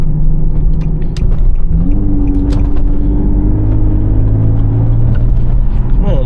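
An Infiniti G37 creeping along slowly, heard from inside the cabin as a steady, loud, deep engine and road rumble that holds throughout, with voices faintly over it.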